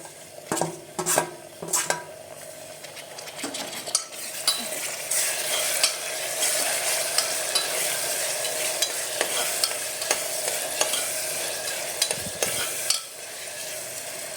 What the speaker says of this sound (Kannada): ಟೊಮೆಟೊನ ಹಾಕ್ಕೊಂಡು ಸ್ವಲ್ಪ ಫ್ರೈ ಮಾಡ್ಕೊಳ್ಳೋಣ